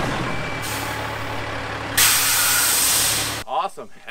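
A truck tugs against a gooseneck trailer with its brakes locked: a loud, steady roar and hiss that swells midway, then drops off sharply near the end into a few short uneven bursts.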